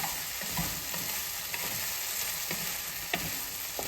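Taro (arbi) pieces fry in a covered pan over low heat while being stirred. A constant soft sizzle runs underneath, with regular spatula scrapes about every half second.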